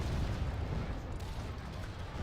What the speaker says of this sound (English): I'm going to tell you guys to stop firing and just let the cannons do the work.